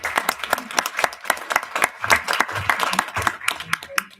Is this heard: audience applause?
yes